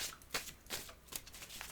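Oracle cards being shuffled by hand, a short series of crisp riffling bursts, close and fairly quiet.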